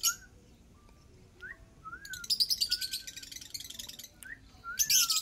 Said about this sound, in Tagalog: Mga ibon to, mga magandang ibon. So magiging masaya kayo dito. Pakinggan nyo lang ang kanyang mga tono, mga kaibigan.